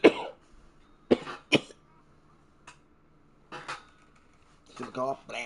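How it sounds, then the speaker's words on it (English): Several short, sharp coughs in a small room, a cluster at the start, then single bursts about a second apart and a rougher pair near the end, with quiet gaps between them. "Super cough."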